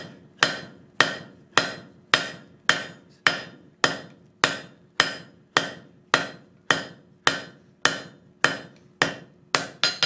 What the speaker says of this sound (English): Heat it to a proper forging temperature, and we're going to forge it out to just a taper